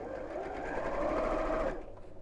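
Sewing machine running steadily while top stitching fabric, a close, continuous whir for about two seconds before stopping.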